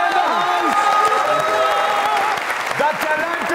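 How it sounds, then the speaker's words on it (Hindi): Audience applause and cheering at a comedy show, a dense crowd of clapping lasting a few seconds while a musical tone and voices carry over it. "तालियां"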